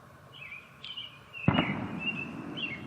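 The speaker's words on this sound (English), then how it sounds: "It sounded like fireworks." A single sharp firework pop crackles at a distance outdoors during a solar eclipse, followed by a lingering rumble, with faint bird chirps around it.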